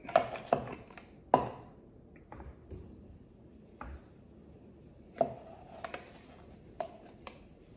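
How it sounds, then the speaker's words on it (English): A floured biscuit cutter presses through rolled-out biscuit dough, making sparse, soft, close thumps and taps spaced irregularly over a quiet background. "and we're just cutting out the biscuits"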